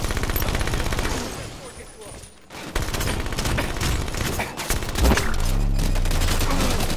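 Rapid automatic gunfire in Halo 5: Guardians, continuous loud bursts with a short lull midway, close and intense, with a voice speaking over the shooting.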